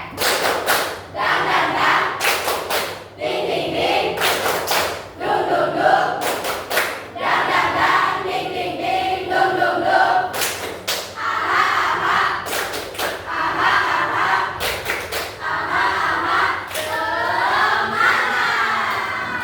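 A classroom of junior high students at an Islamic school does a rhythmic spirit clap, giving loud group claps in patterned bursts over a lively crowd with voices chanting along.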